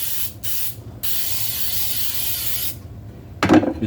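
Baker's Joy baking spray hisses from an aerosol can into a cake pan in several close bursts, two short ones and then one long steady spray, with a rustling scrape near the end.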